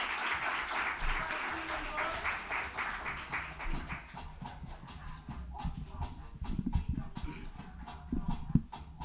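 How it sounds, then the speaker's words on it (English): A live audience at a spoken word poetry showcase claps steadily for a poet coming to the stage; dense applause fills the room, thinning and turning into scattered louder claps toward the end. "Can you start clapping right now?"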